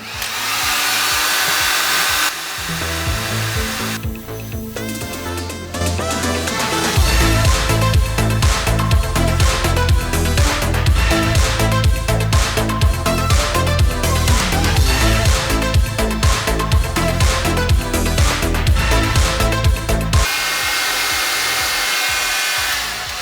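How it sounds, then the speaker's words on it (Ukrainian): A cheap supermarket hair dryer whirs loudly and steadily during a 15-minute endurance run, cutting out and changing pitch partway through, with a rhythmic mechanical chatter during its middle stretch. "Фен відпрацював 15 хвилин, я здивований."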